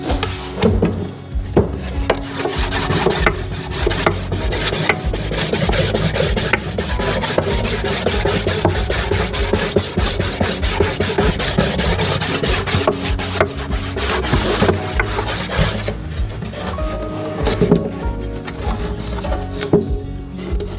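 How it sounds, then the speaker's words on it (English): A lump of propolis is rubbed hard against the inside of a wooden box for a DIY honey bee swarm trap, giving continuous scratchy scraping strokes of varying rhythm, close and loud, with no talk. "I'm just gonna rub this on the inside of the box, and the friction will actually kind of start causing it to melt"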